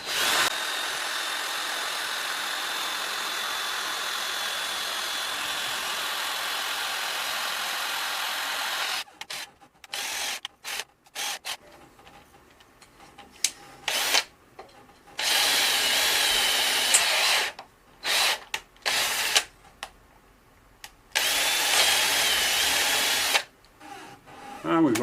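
A power drill bores through a hard anodized aluminium fairing bolt on a Honda Blackbird CBR1100XX motorcycle, whining loudly in long bursts broken by pauses and short stutters, close up, with talk in between.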